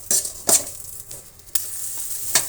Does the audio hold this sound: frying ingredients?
yes